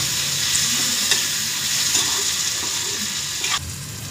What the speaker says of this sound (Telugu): సాల్ట్ వేసుకొని బాగా కలుపుకోవాలి.